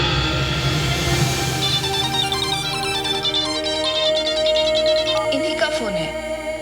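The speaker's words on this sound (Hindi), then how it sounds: "फोन है।" A phone ringing in a Hindi drama scene, a melodic electronic ringtone with repeating tonal phrases over background music, loud and steady.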